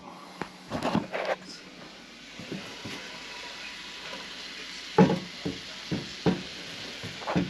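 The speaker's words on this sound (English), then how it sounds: "Gonna start sizzling up" Onions, peppers and mushrooms sizzle quietly in a pan on a stove while being stirred, with occasional clinks and scrapes of utensils against the cookware.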